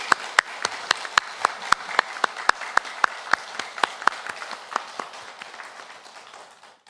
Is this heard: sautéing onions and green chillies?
no